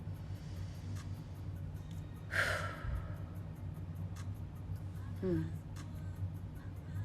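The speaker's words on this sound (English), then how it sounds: "Take a deep breath in." A person draws one long, deep breath in during a hands-on shoulder and arm session, a rushing inhalation of about a second over a low steady background hum.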